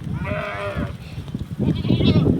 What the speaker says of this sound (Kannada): ನೋಡಿ ಫ್ರೆಂಡ್ಸ್, ಕುರಿಗಳು ಇವಾಗ ಮೇಯಕ್ಕೆ ಹೋಗ್ತಾ ಇದ್ದಾವೆ